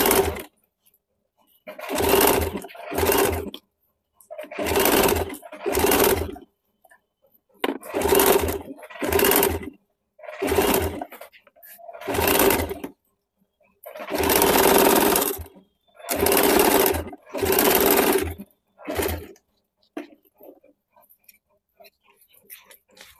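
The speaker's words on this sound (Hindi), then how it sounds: "इसी प्रकार से हम लोग सामने वाले पल्ले में भी सिलाई चला लेंगे।" A sewing machine stitches the front neck panel of a garment in short bursts, about nine runs of a few seconds each separated by brief pauses, loud and close with no talk.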